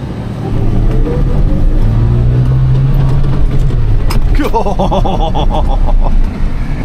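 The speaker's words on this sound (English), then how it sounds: "We're gonna see what happens if I go to 2-wheel drive, build some boost, and dump the clutch." A Suzuki Jimny JB23W revs hard in 2-wheel drive as the clutch is dumped on a dry off-road trail, a loud close engine roar holding steady with a shift in pitch midway, voices faintly underneath.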